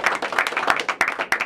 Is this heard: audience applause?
yes